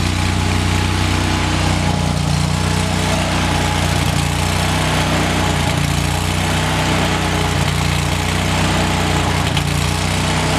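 A Lincoln Ranger 10,000 generator welder engine runs steadily after a cold start, a loud, unbroken, close mechanical drone with a low throbbing hum and no change in pace throughout.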